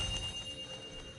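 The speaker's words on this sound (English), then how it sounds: "Do you just like hearing the sound of the chimes? I suppose they do sound very pretty." Chimes ring in God of War Ragnarok, a short bright tone with soft lingering overtones over a low ambient rumble, heard alone and fairly faint.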